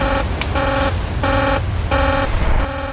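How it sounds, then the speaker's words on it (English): A control room alarm at the Chernobyl nuclear plant pulses in repeated on-off bursts, a loud electronic buzz roughly every half second over a low background hum. "He's all too used to alarms like this."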